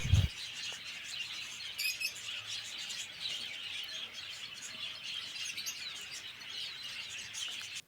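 Young budgerigars kept in a separate colony setup on a bird farm in West Bengal chirp steadily throughout, a dense layer of high, overlapping tweets close by with a few sharper calls standing out.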